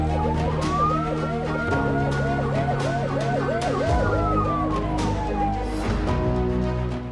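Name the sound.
vehicle hooter siren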